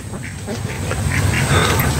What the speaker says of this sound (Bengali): হাঁসগুলি পানিতে চলে গেল।